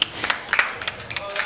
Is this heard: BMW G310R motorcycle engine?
no